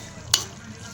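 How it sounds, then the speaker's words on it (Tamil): Manathakkali greens being stirred in a pan while they fry: one quick, sharp scrape of the spoon rises briefly above a low, steady sizzle. "நல்லா கிளறி விடுவோம்"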